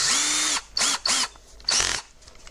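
A small power drill with a 2.5 mm bit whirs in three short bursts separated by brief pauses, clearing out a hole in a 3D printer part, close and fairly loud.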